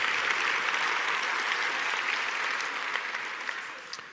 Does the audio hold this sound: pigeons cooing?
no